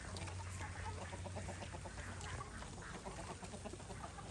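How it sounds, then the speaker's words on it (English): Chickens and a rooster cluck and mutter in a steady busy mix, with a constant low hum running beneath the barnyard chatter. "That is a gorgeous rooster."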